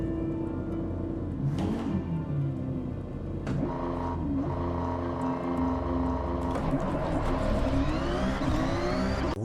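A car engine in a driving video game hums steadily throughout, with revs rising and falling and a couple of sharper swells, loud and close with no talking.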